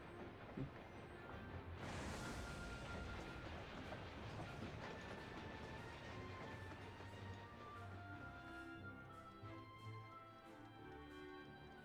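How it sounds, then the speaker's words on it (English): A train in Final Fantasy XIV rolls along steadily with rhythmic clickety-clack of wheels on rails and a continuous rumble, a brief hiss near the start, moderately close. "The choo-choo train."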